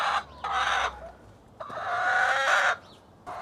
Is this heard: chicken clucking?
yes